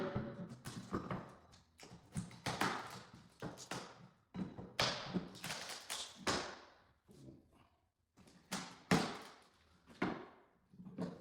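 A chisel taps repeatedly on hardwood floorboards during a repair of termite damage, giving sharp, close knocks in irregular bursts with short pauses between them.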